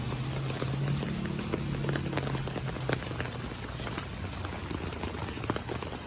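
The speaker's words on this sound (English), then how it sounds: "Okay, it's raining." Steady rain patters down outdoors around a yard with ducks, a fine, even hiss of drops with scattered louder taps, faint and continuous throughout.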